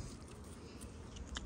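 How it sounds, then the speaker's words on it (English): Fresh sweet peas picked from a container vegetable garden being chewed close to the mouth, soft crunchy bites and mastication repeating through a quiet stretch with no talk. "I am chewing on some."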